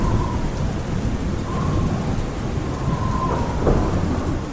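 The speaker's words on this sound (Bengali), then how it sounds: "বাইরে আকাশ ভরা অন্ধকারকে ভিজিয়ে হুড়হুড় করে বৃষ্টি পড়ছে, আর চকচক করে বিদ্যুৎ চমকাচ্ছে, তার সাথে ঝোড়ো হাওয়া ছুটছে।" Heavy rain pours in a dense, steady roar with low rumbling thunder and gusty storm wind, loud and continuous throughout.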